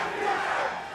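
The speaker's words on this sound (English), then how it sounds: "Yeah, the crowd getting involved now." Esports arena crowd at a Valorant Champions Tour 2024 Masters Madrid match, roaring and cheering loudly and steadily through a tense two-versus-five round, a dense wash of many voices with no clear talk.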